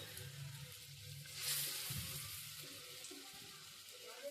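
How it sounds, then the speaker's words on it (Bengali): Lentil fritter batter hissing as spoonfuls are lowered into hot oil in a wok, a steady broad sizzle that swells midway with soft clinks and scraping underneath, heard up close with no talk. "এবার বড়াগুলো ডালটাকে আমি আস্তে আস্তে করে কড়াইয়ে ছেড়ে দিচ্ছি"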